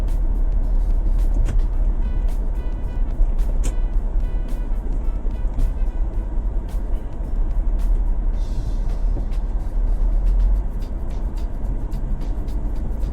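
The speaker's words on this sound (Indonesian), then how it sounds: "Oke, sekarang kita jalan dulu menggunakan mobil ini." A Toyota Harrier V6 running on compressed natural gas drives along a road, its low engine and tyre rumble steady and close throughout, with faint ticking and a brief hiss partway through.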